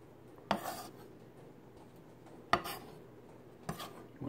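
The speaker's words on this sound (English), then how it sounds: "I'm going to chop up these 2 jalapenos" Knife chopping two jalapeños on a cutting board, three sharp isolated chops spaced about two seconds apart, fairly close and crisp against a quiet kitchen background.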